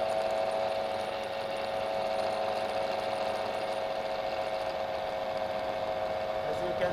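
A three-phase electric motor running on a single-phase supply hums steadily and loudly with a strong mechanical whine, unbroken for the whole stretch, close by with no talking.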